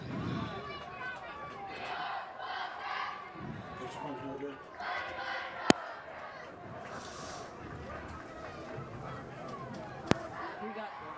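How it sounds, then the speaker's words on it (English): A crowd at a high school varsity football game cheers and murmurs in the distance, a faint, steady wash of voices with a couple of sharp clicks. "Crowd energized after that first play."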